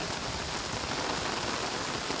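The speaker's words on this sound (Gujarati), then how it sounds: "કેટલો બહુ તગડો વરસાદ પડે છે" Heavy monsoon rain pours down in Vapi, Gujarat, in a dense, continuous hiss, loud and close, with no voices.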